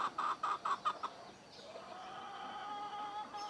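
A hen clucks in a quick run of four or five bursts, then falls quiet against a soft, steady farmyard hum.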